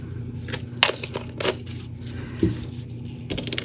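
Glass beads drop into a resin mold, giving a few scattered crisp clinks and small crunchy rattles over a low steady background hum.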